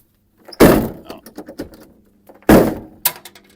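Door of an old Peterbilt truck with worn latches being shut, two loud close metallic slams about two seconds apart with small rattles and clicks between them, then a lighter knock.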